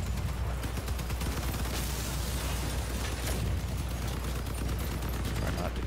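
Targets being blown up in the vehicle combat game Crossout: a dense, continuous barrage of explosions and gunfire over a steady low rumble, with no pause.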